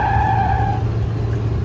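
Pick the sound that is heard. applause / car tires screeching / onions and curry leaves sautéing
car tires screeching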